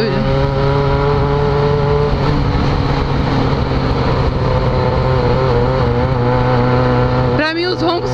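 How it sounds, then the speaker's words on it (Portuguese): An XJ6 motorcycle engine roars loudly nearby in a sustained drone, its pitch shifting slightly before a brief rev near the end. "os roncos mais bonitos assim de moto"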